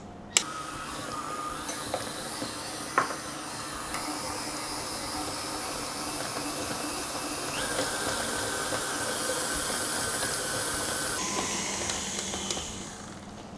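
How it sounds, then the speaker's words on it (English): A mixer on slow speed beats hardened chocolate and butter into buttercream, giving a steady whirring motor drone with a few light clicks and knocks that runs for about thirteen seconds before cutting off near the end. "Now I'm just going to start to beat this to have a fluffy buttercream now."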